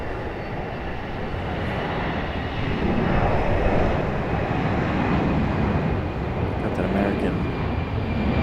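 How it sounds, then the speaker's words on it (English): Engines of an Airbus A320 at Raleigh Durham airport roar steadily nearby, swelling slightly midway in a continuous broad rush with a faint high whine. "A320 getting a move on."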